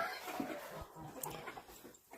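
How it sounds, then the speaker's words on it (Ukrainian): A hen clucks in short, scattered calls after laying an egg, heard faintly in a poultry yard alongside turkeys, with quiet rustling between the calls. "Курка залізла, знеслася."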